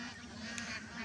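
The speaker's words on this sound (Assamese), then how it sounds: "হাঁহ চাওক, দেখিছে নহয় কিমান ধুনীয়া, মাতবিলাকো ইমান ধুনীয়া" A large flock of about two thousand ducks calls in overlapping honking quacks, faint and distant, forming a continuous outdoor chorus.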